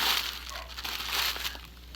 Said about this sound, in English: And I'm like practically breaking this poor box.